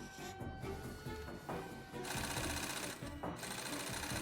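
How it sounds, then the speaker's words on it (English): Industrial sewing machine stitching pieces of nylon-reinforced vinyl stretcher bed together with tough nylon thread, a steady loud mechanical whir running throughout with brief dips and surges in speed. "The pieces are stitched together using tough nylon thread."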